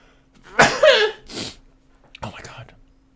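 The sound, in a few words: sneeze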